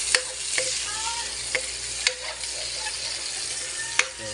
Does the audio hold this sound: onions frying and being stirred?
yes